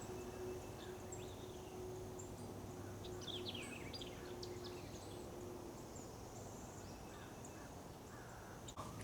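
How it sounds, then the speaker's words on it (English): Birds chirp and call along a hiking trail, with scattered high, thin notes and a few harsher crow-like caws at moderate distance over a steady outdoor hiss of wind and insects. "The bird songs, my favorite music in the world."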